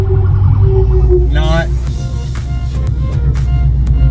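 An ambulance siren passes with a brief wavering wail rising over steady low road rumble, heard from inside a car while a person talks.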